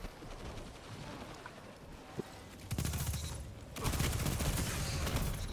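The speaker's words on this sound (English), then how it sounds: "Let's go in with the SMG here." Bursts of submachine-gun fire ring out in a first-person shooter, with rapid dense fusillades starting midway and again toward the end over steady game ambience.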